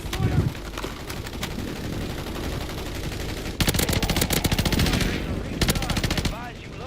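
Rapid automatic gunfire rattles in a video game, with loud bursts of machine-gun fire over a constant background of battle noise and some voices.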